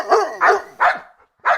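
Dogs of different breeds barking, four loud close barks in an uneven rhythm with short pauses between them, alone with no voices.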